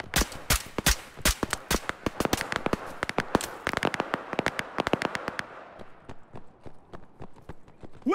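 Rapid gunfire in the tactical shooter Operation: Harsh Door, with sharp repeated shots in bursts and single cracks, loud and close at first, then sparser and more distant toward the end, with no talking.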